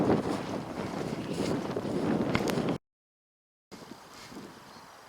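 Wind buffets a microphone outdoors, producing loud, rumbling, roaring noise with gusty swells. The sound cuts out completely for about a second, then the roar resumes, somewhat softer.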